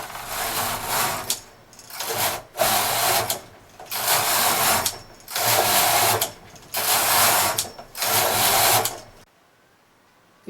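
Knitten Kitten SK7 knitting machine working mock rib, its carriage making six loud rasping passes back and forth, each about a second long with brief pauses between, then falling silent at the end.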